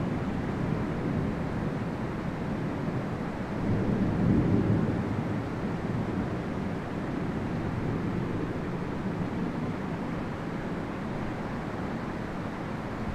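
A heavy thunderstorm under a tornado warning brings a constant wash of rain noise, with a low thunder rumble swelling briefly partway through before the steady downpour carries on.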